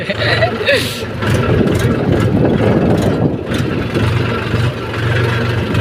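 A village tractor engine runs with a steady low, throbbing rumble throughout, with people talking over it.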